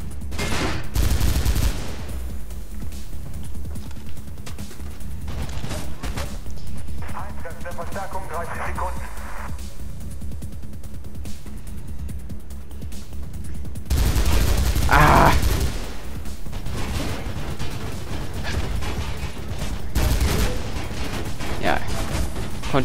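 Machine gun fire in Mirror's Edge rattles out in loud bursts separated by quieter stretches, with other weapon blasts and game sounds around it.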